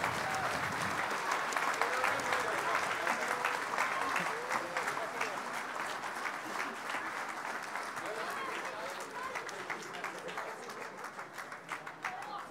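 An audience at the World Aerobatic Championships 2019 opening ceremony applauds the Russian aerobatic team in a sustained, fairly distant wash of clapping, with a presenter's voice speaking over it.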